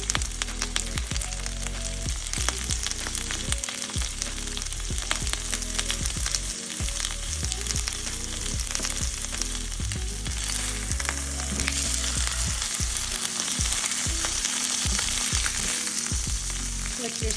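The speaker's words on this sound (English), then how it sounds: "Now we're gonna add our garlic and cook until fragrant" Salmon fillets and garlic frying in a pan, a continuous loud crackling sizzle with small spatters throughout.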